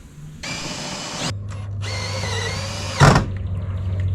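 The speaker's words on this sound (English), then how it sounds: "then I'll drill the rest of the holes" Power drill boring screw holes during a camper build, two loud sustained whirring bursts separated by a short pause, followed by a brief knock and a low hum.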